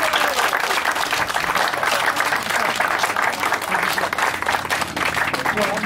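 Crowd applause after a speech at a village festival, dense sustained clapping throughout, loud and close, with some voices mixed in.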